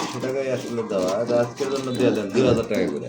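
A large fancy pigeon coos in a steady run of soft, rolling calls close by, with people talking over and between the coos.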